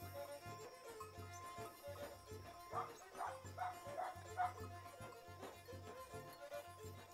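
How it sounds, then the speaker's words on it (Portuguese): A dog on a rural farm barks in short repeated bursts at a distance, fairly faint beneath a steady low background hum and some murmuring voices. "o cachorro que a minha mãe cria, que não para de latir"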